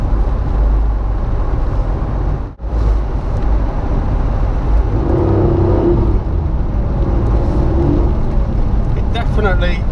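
Porsche 964 fitted with a converted gearbox, accelerating hard from a standstill so the rear wheels spin; a steady loud engine drone with rising revs fills the cabin, with speech over it.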